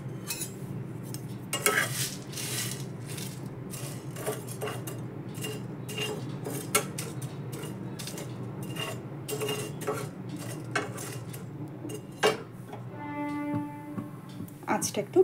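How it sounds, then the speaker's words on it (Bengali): Whole spices dry-roasted in a nonstick pan for bhaja masala, with a spatula scraping and tapping against the pan in irregular clinks, and someone talking over the cooking. "ননস্টিক প্যানের মধ্যে এবার এই ভাজা মশলা করার জন্য যে মশলাগুলো নিয়েছিলাম এই মশলাগুলো সব দিয়ে দেবো। দিয়ে শুকনো খোলায় এটাকে রোস্ট করে"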